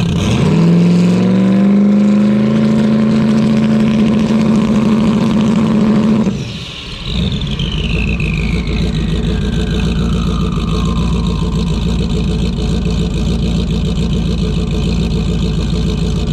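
A turbocharged Ford Mustang engine idles steadily, then revs and shifts about six seconds in and settles into a loud, close, continuous running drone as the car backs out of a garage onto a driveway.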